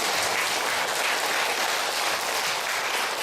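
A church congregation at a Korean revival gathering applauds, a steady dense wash of many hands clapping that holds at an even level throughout.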